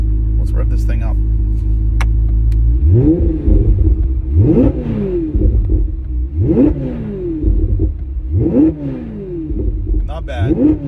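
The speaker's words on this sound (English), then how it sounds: "Let's rev this thing up." Chevrolet Corvette C8 Z06 fitted with aftermarket headers and an AWE exhaust, baffles open, idling loudly before a series of about five sharp revs in steady rhythm, close and powerful, with pops between blips.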